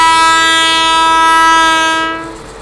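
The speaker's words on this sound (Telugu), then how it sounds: "ఇప్పుడు P7 అయితే వస్తుంది. BJD WAP7 with generator car." A WAP7 electric locomotive hauling a train with a generator car blows a long, loud multi-tone horn up close, steady for two seconds before fading slightly as it passes.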